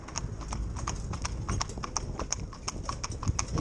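Hooves of two horses, Jimmy and Choo, driven in tandem in harness, clip-clopping in a steady, quick rhythm close by, each strike crisp over a low rumble of wheels and ground noise.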